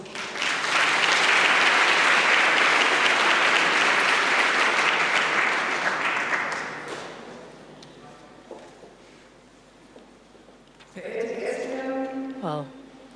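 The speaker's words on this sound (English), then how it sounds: "Please, a round of applause." Audience applause at a European youth award ceremony in Aachen, broad and steady for about six seconds before it fades away, followed by a lone voice speaking.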